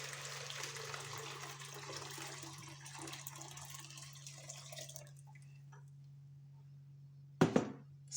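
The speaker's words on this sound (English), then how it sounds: "And then I'll go ahead and add my already boiled water into this pot." Already boiled water is poured into a pot while making a turmeric immunity drink: a close, steady splashing pour that tapers off after about five seconds, followed by a brief clink.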